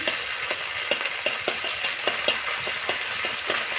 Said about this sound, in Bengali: এর মধ্যে এবার আদা রসুনের যে বাটাটা সেটার মধ্যে দিয়ে এর সঙ্গে ভাজবো